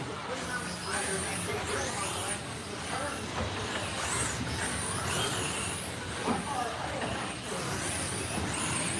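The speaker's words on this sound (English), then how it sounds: "They sound like they're turbo truck." Turbocharged trucks racing around an oval track, engines droning continuously with shifting pitch and air-brake-like hisses, loud and steady with background voices mixed in.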